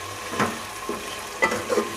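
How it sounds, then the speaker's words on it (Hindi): Chopped tomatoes for chicken aloo shorba are stirred in a hot pan on low heat: a soft, steady sizzle with several scraping spoon strokes, close up and without speech. "टमाटर डालने के बाद इसकी बुनाई करेंगे हम"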